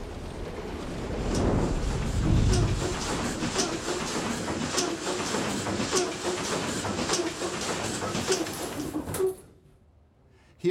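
Two large 6-cylinder diesel engines of 1,500 horsepower each aboard a U-boat give a loud, steady, dense mechanical roar with rhythmic knocking, close by and continuous before cutting off near the end.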